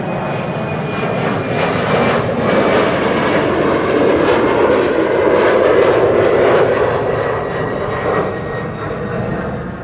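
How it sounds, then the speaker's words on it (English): A KLM Embraer 190 jet departs from runway 24 at Amsterdam Schiphol, its engines a loud, sustained roar with a faint whine that swells in the middle and eases slightly toward the end, with no talk. "KLM Embraer 190 to Palma de Mallorca"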